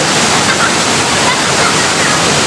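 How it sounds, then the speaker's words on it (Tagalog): Malatop waterfall in Labo, Camarines Norte, roaring steadily and loudly close by, a dense unbroken rush of falling water with no pauses. "Malata Falls Labo"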